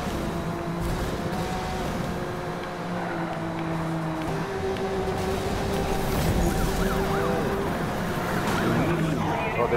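A Camaro police car from Need for Speed Rivals races with its siren wailing amid roaring engines and road noise in a busy, continuous game mix.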